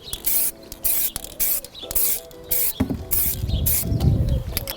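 Red aerosol spray paint hisses outdoors onto the horns of a Civic Type R EP3 in a run of short, close bursts with brief pauses between them, ending in a longer, rougher spray.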